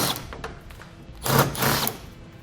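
A tool whirs in two short bursts while 8mm bolts come out of the hitch center section on a 2010 Audi Q7, with mechanical rattles close by.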